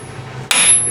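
A single sharp metal strike from a hammer hitting the front axle of a Bobcat S185 Turbo skid steer, landing halfway in with a bright ringing tail after near-silence.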